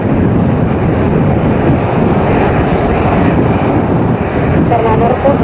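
A fixed-wing airplane takes off in strong wind and rain, a loud continuous broadband roar of engine and gusting wind that stays steady throughout, with faint voices mixed underneath.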